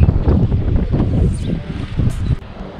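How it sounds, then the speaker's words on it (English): Strong wind at Nazaré, Portugal, buffets the microphone in loud, gusty bursts, rumbling low and uneven, with no voices. "And here it is so windy."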